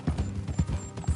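Horses trotting along a trail in the Red Dead Redemption 2 video game, a few rhythmic clip-clop hoofbeats close by, moderately loud with no talk.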